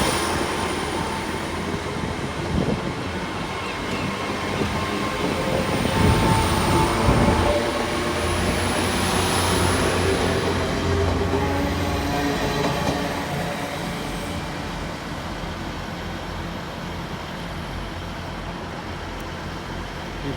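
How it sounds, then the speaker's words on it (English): A Great Western Railway train to London Paddington departs Exeter St Davids station, its engine rumbling steadily as the carriages roll past. The sound swells in the middle, adds a thin high wheel squeal, then eases as the train pulls away. "As you just saw right there was the Great Western Railway service to London Paddington. That's left on time."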